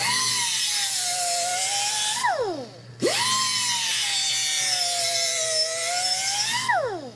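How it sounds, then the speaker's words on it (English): A lathe turns a crown onto a metal bead in two long passes, each a steady high whine that bends downward and drops off at the end, separated by a short pause. "chuck it up here in the lathe, and we're just going to run it"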